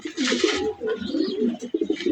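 Racing pigeons in a pigeon house cooing, with soft, throaty, overlapping coos close by that run throughout without a break.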